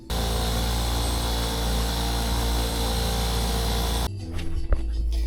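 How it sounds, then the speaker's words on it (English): A steady, loud grinding whir of a spinning wire wheel against a metal chopper motorcycle tube runs continuously, then cuts off, leaving quieter clinks and rattles. "we're going to get this cleaned up on the wire wheel"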